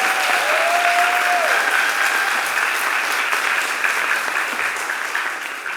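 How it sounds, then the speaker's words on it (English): An audience applauds for a crew member at a summer theatre closing performance, loud sustained clapping that holds steady and fades slightly toward the end, with a brief vocal cheer early on. "Can we give a round of applause for Taylor?"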